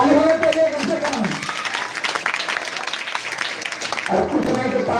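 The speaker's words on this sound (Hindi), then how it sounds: "और कुछ नहीं तो ताली तो कम से कम बनता है ना।" An audience at a coaching centre prize ceremony claps for a winner, a dense burst of applause in the middle, with a voice speaking over it at the start and end.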